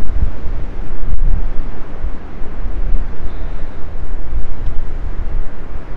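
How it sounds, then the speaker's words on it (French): Ocean surf and gusting wind on the Brittany coast, a steady broadband roar of breaking waves with heavy wind buffeting the microphone throughout, close and loud, with no voices. "Je suis toujours en Bretagne, près de l'océan."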